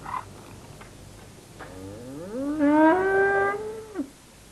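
A single cow gives a drawn-out moo in a village setting where cattle are kept along field edges and paths. The call rises and holds for about two seconds, fairly close, over quiet background.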